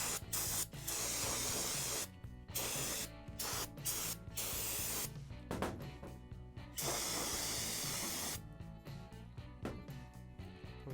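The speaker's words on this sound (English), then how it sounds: "So I'm gonna go ahead and spray this gear off." Aerosol cleaner sprayed onto the cam gear of a 1776cc VW engine being built, with loud hissing bursts of varying length separated by brief pauses, close and dominant.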